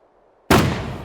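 A small firework lit by hand in the survival game SCUM goes off in one sudden loud bang after near silence, followed by a rough, crackling tail that fades slowly.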